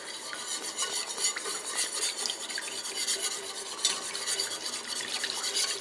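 A whisk stirs half and half into a pot of creamy turkey carcass soup, giving a steady, close scraping and swishing with rhythmic clinks against the pot, continuous throughout and with no talking.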